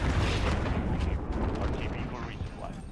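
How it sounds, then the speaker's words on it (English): RPG rockets explode again and again in a Call of Duty Modern Warfare firefight, loud dense booms packed with gunfire and battle noise, while a voice talks underneath. "RPG every 2 seconds, bro."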